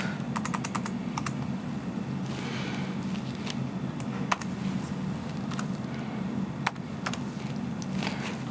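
Keystrokes on a computer keyboard as lab data for an Fe(II) experiment is entered, irregular clicks in short bursts and single taps over a steady low room hum, no voices.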